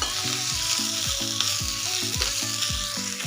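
Fresh coriander roasts in a hot pan for a spicy Maharashtrian amti, giving a steady close sizzle broken by rhythmic scraping thumps of a spatula stirring about twice a second.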